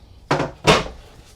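Two quick sliding knocks from the drawers of the outdoor kitchen on a 2027 Jayco Eagle 312BHOK travel trailer, a short thud followed by a louder close a moment later, near and crisp.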